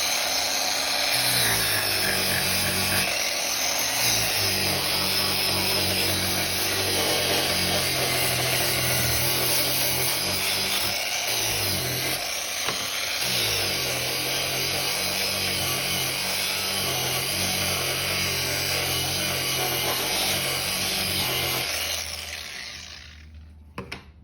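A Bosch GWS 9-115 S 900 W electric angle grinder whines loudly and continuously for about twenty seconds, then spins down and stops near the end.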